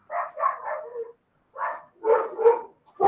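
Several of the neighbour's dogs bark outdoors in loose groups of two or three overlapping barks, separated by short silences. The barking is moderately loud with no talking over it.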